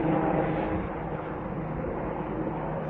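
A helicopter passes overhead as a steady, loud broadband rumble and whine that persists throughout, recorded outdoors during a microphone test.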